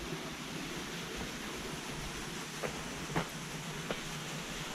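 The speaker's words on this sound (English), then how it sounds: "There is a waterfall." Steady rushing water from a small waterfall feeding a temple pond at Ryusenji, a continuous broadband wash with a few faint clicks and no talking.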